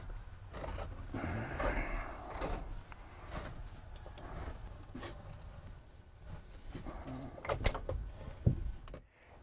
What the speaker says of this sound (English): Now I'm going to close the fill hatch and tighten it down before pressurizing the dryer vessel.